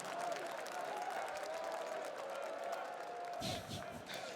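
Crowd at the CS:GO Stockholm Major 2021 semi-final, NAVI vs Gambit on Overpass, cheering and applauding steadily in a large arena, with a louder swell of noise near the end under an ongoing commentator voice.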